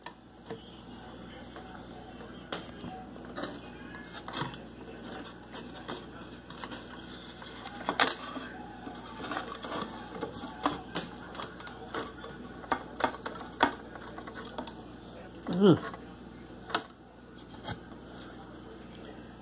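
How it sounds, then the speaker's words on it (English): A Mercury sewing machine stitches through 1/4 inch plywood with a Schmetz 24 needle and V135 polyester thread, giving a quiet run of rapid mechanical ticks and clacks that swell and fade over about twenty seconds. "this is showing how it works sewing plywood"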